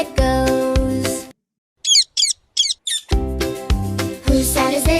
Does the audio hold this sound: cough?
no